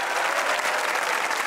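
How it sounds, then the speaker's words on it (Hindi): Studio audience clapping on a Pakistani TV comedy talk show, a dense, loud, continuous wash of applause filling the whole brief moment with no talking. "तालियां बजाइए"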